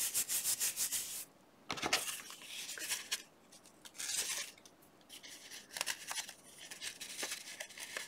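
Scissors snipping through paper for a scrapbooking craft project, several close, crisp cutting strokes in bursts with short pauses between them, no talk.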